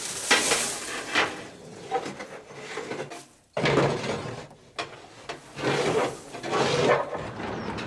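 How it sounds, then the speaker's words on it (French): A scraper knocks ashes out of a steam locomotive's ashpan into the pit below: repeated scraping and hollow metallic knocks in uneven bursts, close and fairly loud, with short pauses between strokes. "À l'aide d'un racloir, le chauffeur fait tomber les cendres dans la fosse sous la locomotive."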